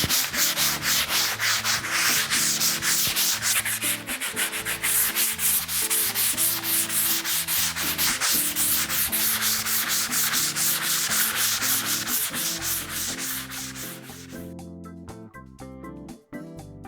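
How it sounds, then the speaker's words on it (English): Fine sandpaper rubbed over a smooth repaired wall makes a steady, close rhythmic scratching in quick back-and-forth strokes, continuing for several seconds before easing off near the end. "We are going to use fine sandpaper to avoid scratching the wall."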